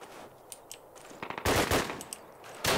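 Automatic and single gunshots from the Call of Duty WWII-era shooter, with a KAR98K rifle in a winter setting, crack out in scattered bursts, loudest in two heavy volleys near the end.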